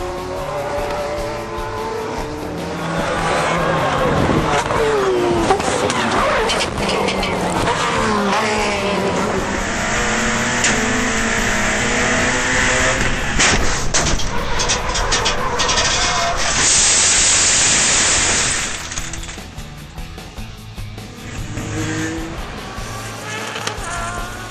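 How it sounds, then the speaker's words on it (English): Racing cars, including a Ford Focus, make contact during a circuit race, with a loud engine roar followed by scraping and crunching as a car runs through the gravel pit toward the tire wall, then the noise fades. "Mears and Maloney touch, and the gravel pit and tire wall saves any further damage to his Ford Focus."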